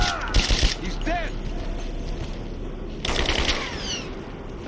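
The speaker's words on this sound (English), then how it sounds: "Open fire! Give me suppressing fire now!" Scattered gunfire in the video game Rise of the Tomb Raider, with sharp cracks and brief bursts during a firefight, mixed with shouted voices and other combat noise.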